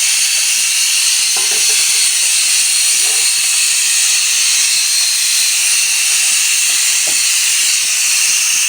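Water poured into a hot cooking pot, giving a loud, continuous hiss of steam that carries on steadily throughout, with faint clatters underneath.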